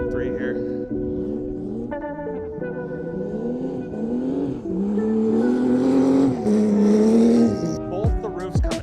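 A Porsche 993 race car runs a warm-up lap at an ice race meet in the snow, its engine note climbing and falling through the revs in a loud, close, sustained drone, with brief rasps near the end.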